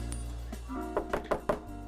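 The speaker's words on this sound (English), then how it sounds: "And Catherine knocks on the door and hears a subtle sound of its unlocking." Four quick knocks on a door land close together near the end, sharp and fairly loud over a steady low hum, with a faint voice-like sound just before them.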